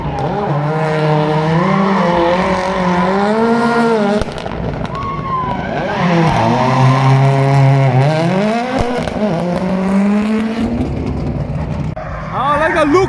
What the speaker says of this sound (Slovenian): gume kričijo.